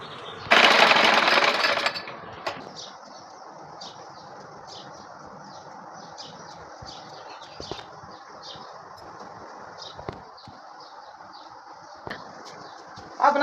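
A sewing machine stitches a suit along the neckline, buzzing in a steady close mechanical whir. A loud burst comes near the start, then a fainter continuous rattle follows with occasional clicks and bird-like chirps in the background.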